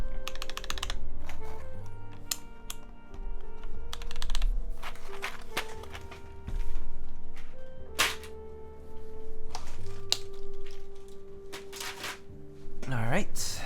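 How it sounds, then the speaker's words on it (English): Rapid clacking keystrokes on a Stellar65 custom 65% mechanical keyboard during a typing test, a dense, uneven patter close to the microphone with occasional heavier thocks from larger keys. "we still at least get a typing test."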